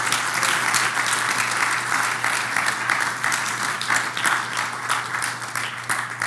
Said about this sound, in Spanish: ¿No le das un aplauso al Señor por eso?